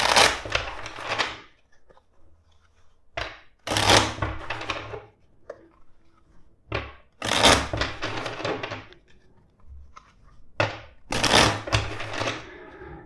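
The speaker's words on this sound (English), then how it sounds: "let's shuffle the deck." A tarot card deck being shuffled by hand, several loud, crisp bursts of riffling cards separated by short pauses, close to the microphone.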